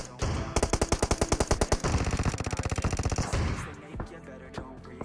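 M16A4 rifle fire in a shooter video game rattles out in rapid automatic bursts, loud and close, then trails off into scattered fainter shots.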